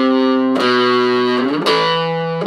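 Distorted electric guitar with effects plays the chorus riff, loud sustained notes with pitch changes roughly every second, alone with no talking.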